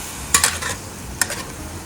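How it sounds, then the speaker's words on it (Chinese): A utensil stirring sweet chili powder into mapo tofu in a hot pan, heard as two brief scraping strokes over a soft background sizzle, close and with no talking. "然后开火让它搅拌均匀"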